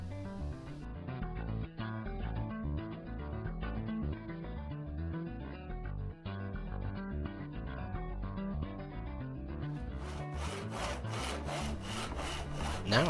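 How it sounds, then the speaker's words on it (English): A handsaw cuts through a wooden board to shape a tenon joint, its close, steady back-and-forth rasping strokes continuing rhythmically throughout and turning harsher near the end. "Now I cut the sides away from the male tenon at a 90-degree angle."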